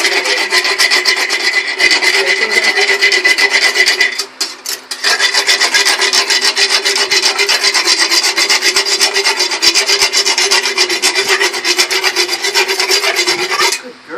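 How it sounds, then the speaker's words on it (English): Dental rasp filing sharp points off a horse's teeth, a loud steady grating that scrapes back and forth for over thirteen seconds with one short break near the start. "now what I'm doing basically is just filing off all the sharp points"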